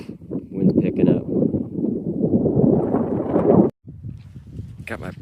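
Wind buffets the microphone on a steep mountain trail descending San Jacinto, a loud continuous low rumble that cuts out abruptly near the end, with someone speaking over it.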